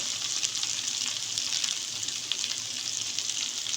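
A full kilo of okra (bhindi) frying in hot oil over high heat, giving a steady, dense, hissing sizzle that continues evenly with no talk.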